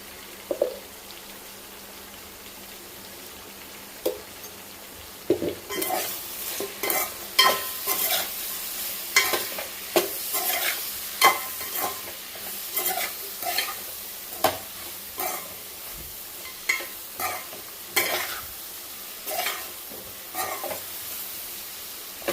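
Ingredients for Telugu drumstick dal rasam fry in a pan, a constant close sizzle joined partway through by steady, repeated scraping stirring strokes that continue to the end.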